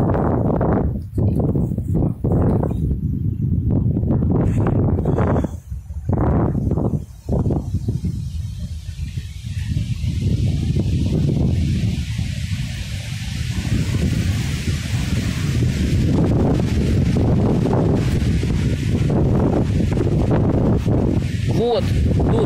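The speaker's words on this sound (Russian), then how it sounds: "Ветер поднялся, поэтому плохо чути буде, погано чути, плохо слышно." Strong wind buffeting an outdoor microphone beside a young birch grove, loud rumbling gusts that roar and drop off throughout, with someone talking over much of it.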